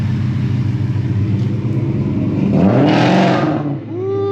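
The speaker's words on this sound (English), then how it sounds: "A little rich on that cold start, ain't it?" A car engine on a cold start idles with a rough, lumpy rumble, then revs up sharply around midway and drops back to idle, loud and close.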